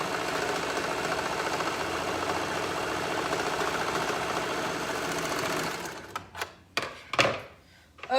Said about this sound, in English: sewing down the side of the sweater with the bottoms